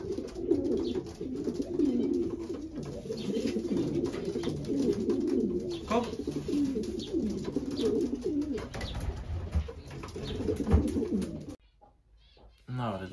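Racing pigeons coo continuously at the home loft after a young-bird race, a dense murmur of low rolling calls nearby, with a brief silent gap near the end.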